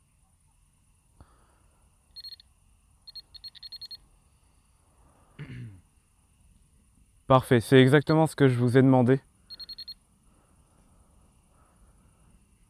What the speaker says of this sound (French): vous entendez que quand vous vous approchez, l'appareil bip, fait du bruit